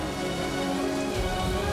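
Heavy rain pours down in a dense, steady hiss of drops drumming on surfaces, loud and close, with a low rumble beneath and no voices.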